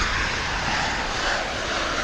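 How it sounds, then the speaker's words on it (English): Japan Airlines jet departing Dallas/Fort Worth International Airport for Narita, Tokyo, a steady broad engine roar held at constant loudness for a couple of seconds, fairly distant and unbroken. "This is Japan Airlines flight 6713 off to Narita"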